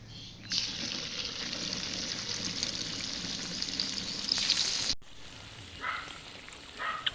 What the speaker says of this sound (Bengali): এদিকে পকোড়া ভাজা হচ্ছে আর এদিকে খাওয়া হচ্ছে